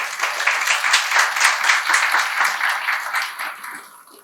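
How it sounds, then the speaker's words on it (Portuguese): A church congregation applauds during a celebration service, a dense, even wash of clapping that holds steady and then tapers off toward the end, with no voices over it. "Dê um aplauso a Jesus."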